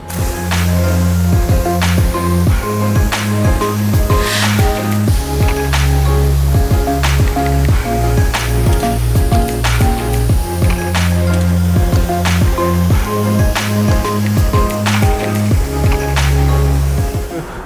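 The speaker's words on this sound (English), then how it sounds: "I'm actually gonna go and rinse it off just to knock off any loose grime or debris of the surface of the vehicle" Steady, loud water spray from a pressure washer rinsing loose grime off a Nissan 370Z Nismo before foaming, a continuous broadband hiss lasting throughout, close and unbroken, with no talking.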